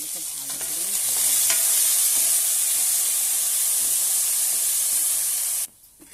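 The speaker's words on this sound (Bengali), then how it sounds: "অল্প লবণ আর অল্প একটু হলুদ দিয়ে আলুগুলোকে ভালো করে ভেজে নেব" Potatoes with salt and turmeric fry in hot oil, making a loud, steady, close sizzle that continues for several seconds and then cuts off abruptly near the end, with a few faint knocks afterward and no talking.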